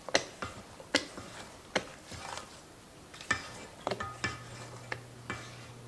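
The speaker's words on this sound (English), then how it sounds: "And then I'm gonna add my raisin. I'm gonna just mix it in." Raisins being mixed into smooth, creamy dough for Persian raisin cookies, heard as a series of irregular soft taps and scrapes of a utensil against a bowl, fairly quiet and close, with no talking.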